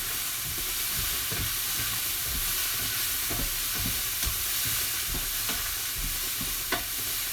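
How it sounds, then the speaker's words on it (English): A spoon stirs pumpkin sauce in a pan on the stove, scraping and sizzling softly and steadily with occasional sharper knocks, and no voices. "I'm just stirring that again."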